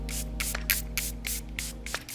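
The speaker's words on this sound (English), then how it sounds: "I'm going to do my first layer of setting spray." Makeup setting spray misted onto a face in quick repeated pumps, about eight short hissing bursts in a steady rhythm, close and fairly loud over a low background hum.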